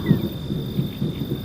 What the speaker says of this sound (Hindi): और ऊपर गरजते बादल